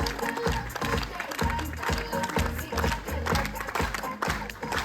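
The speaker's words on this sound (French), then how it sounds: "Je voudrais qu'on applaudisse très très fort notre directeur Benoît Chaudron" An audience at a stage show applauds the director loudly and steadily, dense crowd clapping that fills the room, with a steady thumping beat underneath.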